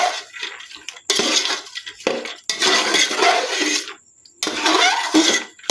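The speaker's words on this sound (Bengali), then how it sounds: "ছোলার ডালটা এর সঙ্গে ভালো করে একটু মিশিয়ে নিচ্ছি" Soaked chana dal is stirred into melted tomatoes in a pot, giving several separate bursts of wet scraping and sloshing with short pauses between them, close by.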